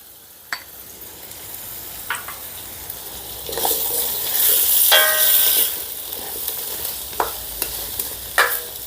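Potato pieces stir-fried in a pan, a soft sizzle broken by sharp scrapes and clinks from stirring, with a louder hissing surge in the middle before it settles back to a quieter fry.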